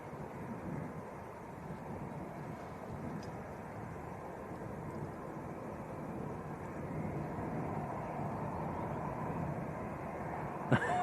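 An EasyJet airliner at Leeds Bradford Airport produces a fairly quiet, even engine roar that holds steady throughout, heard from a distance with a soft thump at the very end.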